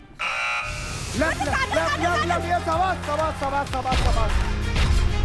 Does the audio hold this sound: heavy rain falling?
no